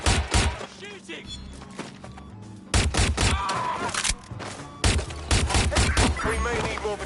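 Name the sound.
gunfire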